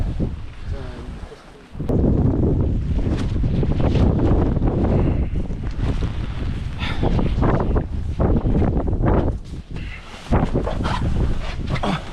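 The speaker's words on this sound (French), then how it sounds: "C'est le vent le plus violent que j'ai jamais vécu." Loud, buffeting wind roars against the microphone in heavy gusts near Nordkapp, Norway, with broadband rumble throughout and brief lulls; a voice may be faintly present.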